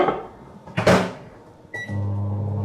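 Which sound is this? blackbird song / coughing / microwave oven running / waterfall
microwave oven running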